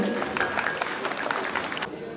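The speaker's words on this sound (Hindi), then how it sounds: "तालियां तो बजा दो मैम के लिए।" At a school Teacher's Day celebration, an audience gives brief applause for a teacher, a moderately quiet, roomy patter of many hands with a few louder claps standing out, ending abruptly.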